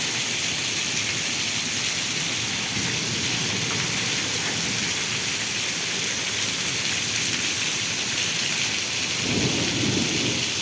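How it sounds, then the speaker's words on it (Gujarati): Heavy rain pours down steadily in a village during a storm with wind and lightning, a loud unbroken roar of rain with low rumbles of thunder swelling underneath, and no voices. "કેટલો અતિ ભારે વરસાદ પડી રહ્યો છે."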